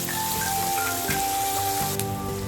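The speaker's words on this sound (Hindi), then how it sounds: "तो ऑनियन को एकदम ब्राउन करके भून लेते हैं।" Two large chopped onions fry in a pan for a Kolkata-style mutton curry, a steady, close sizzle that continues without a break.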